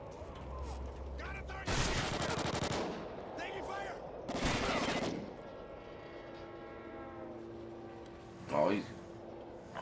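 Shooter video game gunfire: two dense rapid-fire automatic bursts a couple of seconds apart, followed by quieter game effects and a brief sharp hit, with voice chatter at moderate level.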